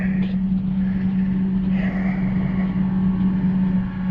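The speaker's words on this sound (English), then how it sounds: "now I gotta get back in the tractor" A farm tractor's engine idles with a steady low hum and a strong constant drone, holding even throughout with no other clear sounds.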